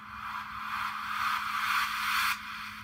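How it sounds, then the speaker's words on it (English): Pumping riser synth effect from Beatmaker 3 for techno: a bright, washy noise swell that builds in steady pulses over about two seconds, then drops off abruptly, alone with no talking. "the pumping riser sounds a little like this"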